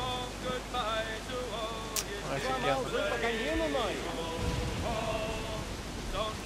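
Stormy sea with rain and rolling wind in Assassin's Creed 4 Black Flag, a steady loud wash of rain and water noise behind a man's excited speech, with musical tones over it and one brief sharp crack.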